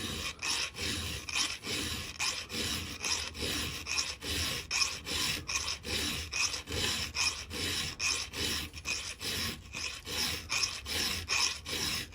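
.404 semi-chisel chainsaw chain being hand-filed: a metal file rasps across the cutters in quick, regular strokes, close up and continuous, with brief gaps between passes and no talking.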